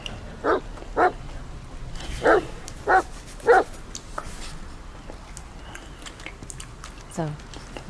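A dog in The Medium video game barks five times in a steady sequence, close and fairly loud. Quieter game ambience fills the pauses, and a short whimper comes near the end.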